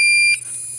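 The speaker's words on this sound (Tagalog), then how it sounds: "papalitan ko nito, itong active buzzer," An active electronic buzzer gives a loud, steady high-pitched beep that cuts off sharply partway through, leaving a fainter tone and low hum.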